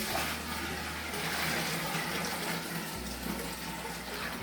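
A steady gush of water pours into a container for sugar mash, a broad continuous splashing rush with a low hum running beneath it.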